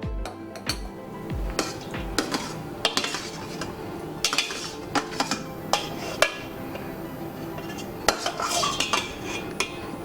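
Soaked dahi vadas are moved into a bowl after some water is drained off, producing a run of irregular metallic clinks and scrapes of spoon against dishes, close by and without speech.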